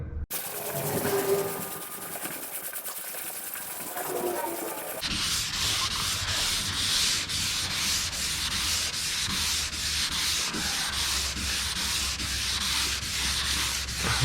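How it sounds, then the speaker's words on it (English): A sanding block rubs steadily back and forth across a big panel, the gritty rasp becoming louder and brighter partway through and continuing in even strokes without talk. "let the sanding block do the work"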